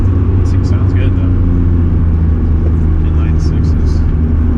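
A BMW E36 M3 with an inline-six engine and short gearing is driven on a track: a loud, steady low engine drone with strong rumbling harmonics runs throughout, with faint brief higher noises overhead.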